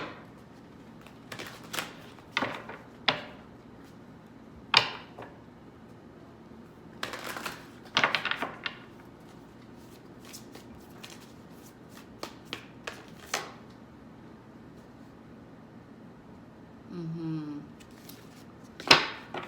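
Angel wisdom advice cards being shuffled by hand, scattered soft riffling and tapping bursts with brief pauses, close and fairly quiet, ending in a longer flurry of card flicks.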